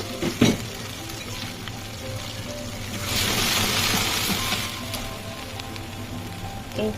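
Mustard and ginger-garlic paste fry in a pan for mango pickle with a low steady sizzle and occasional stirring scrapes, swelling into a louder hissing burst partway through before easing back.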